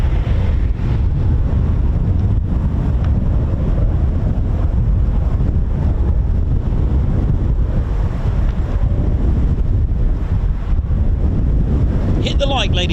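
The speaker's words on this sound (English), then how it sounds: "if it's windy down here, it must be very excruciatingly windy up there" Strong wind at RAF Cranwell roars across the microphone in a loud, continuous low rumble that buffets steadily for the whole stretch, with no clear talk.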